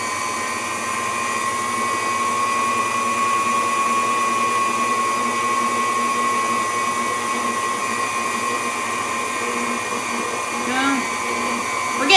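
An electric mixer runs steadily, mixing flour for dinner rolls with a loud, continuous high motor whine and a brief clatter near the end.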